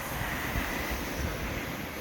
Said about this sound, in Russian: Ветер шумит.